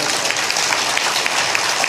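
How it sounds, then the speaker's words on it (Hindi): A large audience at a spiritual discourse claps loudly and continuously, a dense, even roar of applause with no voices over it. "जोरदार ताली बजाओ"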